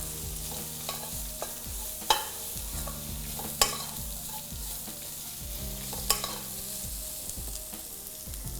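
Ingredients for a Tamil dish with salt and asafoetida sautéing and sizzling in a pan, stirred with a utensil that scrapes and taps the pan in repeated strokes over a steady fry hiss.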